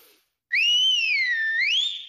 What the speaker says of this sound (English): Great whistling, Mr. Noodle.